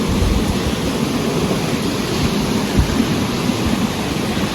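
Steady rain falls in cloudy weather at a mountain resort in Puncak, Bogor, a dense unbroken hiss with a few soft low thumps, fairly loud and with no voices.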